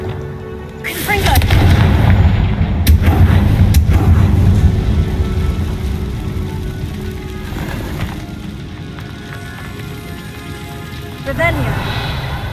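Confringo blasting spell from Hogwarts Legacy bursts with a loud, heavy boom and a long rumbling roll, then a second smaller blast near the end, set among other game sounds and a voice.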